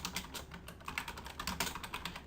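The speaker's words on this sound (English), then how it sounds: "I'm just hitting enter on the keyboard to go to the next line" Fingers type rapidly on a computer keyboard while entering text into a Google Docs document. The keys make a dense, close, fairly loud stream of clicks in an uneven rhythm, with no voice over them.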